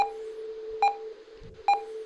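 Three evenly spaced electronic beeps from a heart monitor in the video game Monkeys!¡, sharp and clear over a steady low hum, with no talking.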